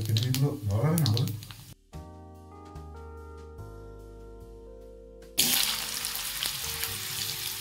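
Potatoes hit hot oil in a kadai wok after a dried chili and cumin tempering, bursting into a loud, continuous close sizzle. Talk and a quieter tonal stretch come before it.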